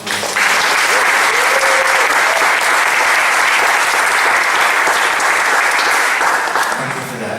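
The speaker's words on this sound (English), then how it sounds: "Let's give them a round of applause, please." Loud, dense audience applause at a theme-park media preview panel, steady for several seconds before tapering slightly at the close, with faint voices mixed in.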